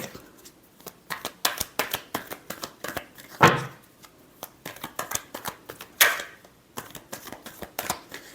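Tarot cards being shuffled by hand at close range, a rapid run of crisp riffling flicks and slaps in irregular bursts, with two louder sweeping riffles partway through.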